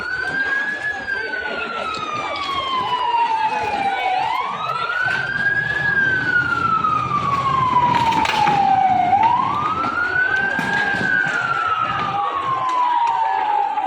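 A loud police siren wails nearby, rising and falling in long slow sweeps, with traffic rumble underneath, as a police car arrives at a student protest.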